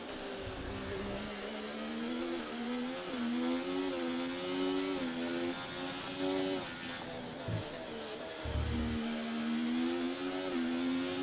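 Formula 1 car engine from the F1 24 video game on the last lap of the Singapore Grand Prix, a steady high-pitched whine rising and dipping with gear changes and throttle, running continuously and loud throughout.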